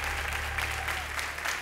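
A studio audience on The Voice Chile gives a dense, steady ovation of clapping and cheering during a battle round, continuous throughout the short stretch.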